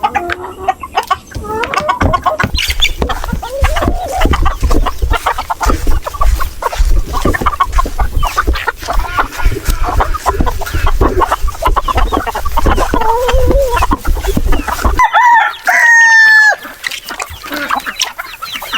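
Native chickens cluck close by with overlapping calls on a small farm as they are fed ripe bananas, and a brief rooster-like crow rings out near the end, with no talk.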